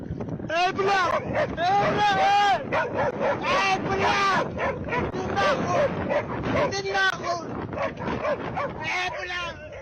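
A pack of free-roaming dogs barks and yips continuously at a rider on an electric scooter, the harsh overlapping barks loud and close, with wind buffeting the microphone.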